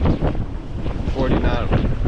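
Strong wind gusts of 40 to 50 knots roar over a sailboat at sea with the jib reefed, buffeting loudly and continuously with a rushing, blustery texture close to the microphone.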